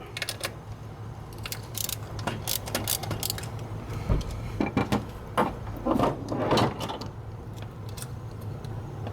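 A socket wrench works a stubborn nut loose from an EGR pressure feedback sensor on a 1997 vehicle, giving scattered close metallic clicks and ratcheting taps amid faint background hum.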